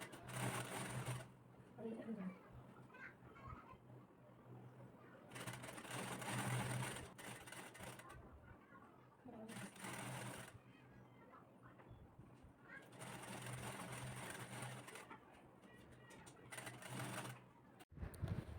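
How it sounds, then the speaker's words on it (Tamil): A sewing machine stitches blouse fabric in several bursts of rapid, close mechanical whirring. Spoken instructions come in the gaps between the bursts and partly overlap them. "துணி மூணு ஒன்று போல் வச்சு ஆஃப் இன்ச் அளவுக்கு ஸ்டிச் பண்ணணும்"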